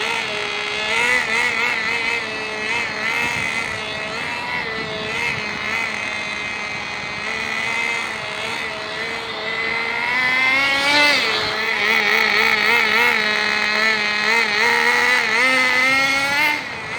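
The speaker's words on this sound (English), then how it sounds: "Hey, this car is going nuts with this exhaust on it." A Thunder Tiger nitro RC car engine with an exhaust fitted revs hard and continuously, a high buzzing whine that rises and falls in pitch, loud and close, with faint voices in the background.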